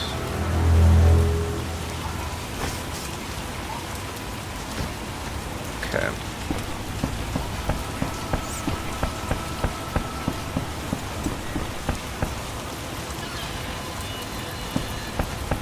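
Steady rain patters on surfaces in The Witcher video game, with a low rumble at the start and scattered droplet ticks. A voice speaks briefly.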